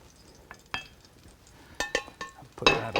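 A spoon scrapes and clinks as food is dished into a small serving bowl, with scattered taps at first and then a brisker cluster of clatters and a louder scrape at the end.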